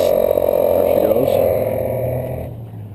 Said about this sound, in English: Now if I trigger it again, you'll hear it kick in.